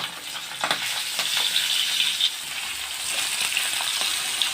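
Fish fries in hot oil for a fish curry, giving a steady, close hiss with scattered crackles and spits throughout, alone with no talk.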